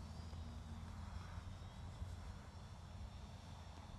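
A drone's propellers spin up after arming and hold a steady, loud whir through to takeoff, a continuous motor drone with a faint high whine over it and no speech.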